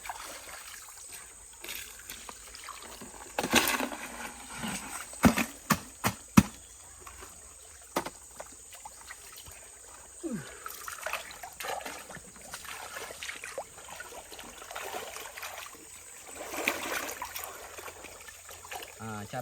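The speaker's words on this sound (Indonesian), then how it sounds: "kita harus aduk ya, aduk materialnya di dalam air seperti ini biar lebih ringan ya" Swamp sediment stirred by hand in water while panning for gold, giving soft trickling and sloshing with a few sharp splashes and knocks early on, then a steady low dribble.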